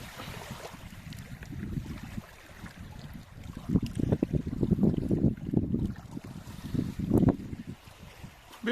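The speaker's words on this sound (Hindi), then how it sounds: "इन लहरों का आना और लहरों से जो स्वर ध्वनि निकल रही है एकदम, अब आप भी सुनिए जरा" Sea waves wash onto a beach near Lakshadweep in low, rolling surges that swell and recede several times, close by, with wind noise and no talking.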